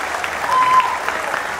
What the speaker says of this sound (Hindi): एक बार तालियां बजा दीजिए आप